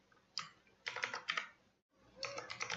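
Quiet typing on a computer keyboard comes in quick clustered bursts of close, crisp key clicks, with one short pause in the middle and no talk.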